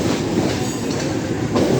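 A Mumbai fast local train runs alongside on the Central Railway line near Masjid station, a loud, close rumble and rattle of wheels on track that holds steady for the whole stretch, with no talking.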